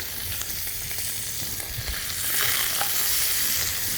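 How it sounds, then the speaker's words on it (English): Chicken livers frying in hot butter for spicy peri peri livers, a steady, close sizzle with crackling spits and a louder burst of frying toward the end, with no voices. "we want to be careful when we're cooking with hot butter"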